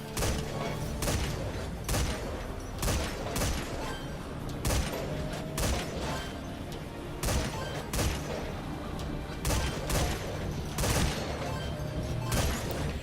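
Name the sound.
grenade launchers firing in the video game Metal Gear Survive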